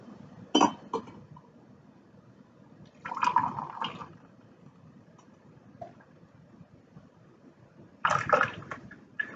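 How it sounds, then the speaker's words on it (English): Cedar tea is poured through a small strainer into a mug, with brief clinks and liquid splashes in three separate bursts against quiet background, close up. "I'm going to strain it into my mug through this little strainer"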